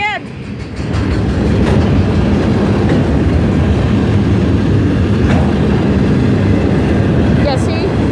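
A freight train hauling windmill blades rolls past up close, a loud, steady broadband rumble of wheels and cars lasting throughout, with a brief squeal near the start and a voice speaking over it.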